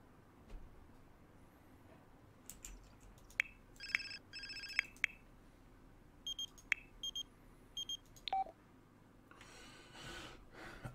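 A phone rings in The Sims 4, with short repeated electronic ringtone bursts that come and go over quiet game ambience, followed by a brief rising chirp near the end.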